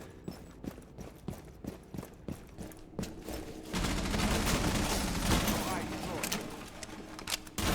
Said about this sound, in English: Valkyrie shooting out the console windows